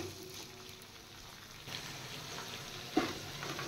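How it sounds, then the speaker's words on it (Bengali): Sliced onions with a pinch of salt fry lightly in a pan, giving a faint, steady sizzle with a soft clink from a utensil near the end. "এবার পেঁয়াজগুলো হালকা ফ্রাই করব"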